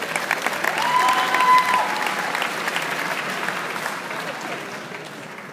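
Audience at a Colorado FBLA state leadership conference keynote speech breaks into sustained, dense applause that swells early and then gradually tapers, filling the hall without any talking.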